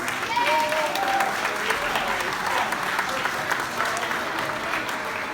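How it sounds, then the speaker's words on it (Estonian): Applause breaks out at a school Father's Day celebration in Tallinn as fathers stand on stage. Dense, steady clapping from a hall audience runs throughout, with a few faint voices mixed in. "Nii, aplaus veel kord!"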